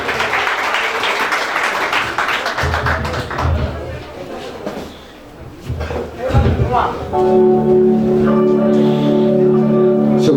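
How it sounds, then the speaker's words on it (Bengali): Audience clapping for reciter Rakib Hossain at a Bangla poetry recitation; irregular claps and thumps fill the first half, then fade as a dip follows, before a steady tone and voices take over. "একটু জোরে তালি হয়ে যাক রাকিব হোসেন"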